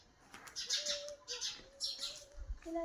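A sparrow chirping on a farm field, several bright short chirp bursts in quick clusters, fairly close, with a faint low background rumble and no speech.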